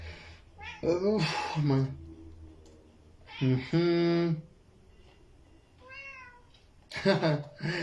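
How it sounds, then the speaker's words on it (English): A playful cat meows several times up close, drawn-out tonal cries separated by short pauses, with a person's voice also heard in between. "That's my cat playing with me."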